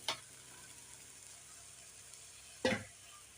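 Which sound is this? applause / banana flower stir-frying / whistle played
banana flower stir-frying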